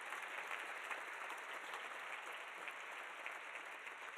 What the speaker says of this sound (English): Let's have another big round of applause for everyone.